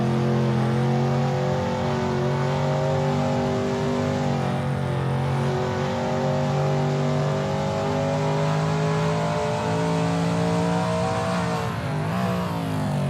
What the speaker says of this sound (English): It's clear that Malero is pushing his car to the very edge of traction on this qualifying lap.